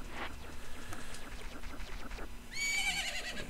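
A horse neighs in the video game Zelda: Majora's Mask, a faint, high whinny rising near the end over low game background sounds.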